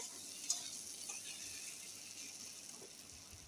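Dried hilsa shutki and eggplant frying together in a pan give off a faint, steady sizzling hiss that runs evenly throughout, with no one talking.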